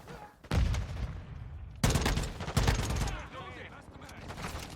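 Battle rifle gunfire in Modern Warfare II, three loud sharp bursts with ringing tails, separated by short gaps, ending in fainter trailing noise.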